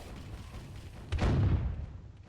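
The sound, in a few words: ship cannon fire in a boat video game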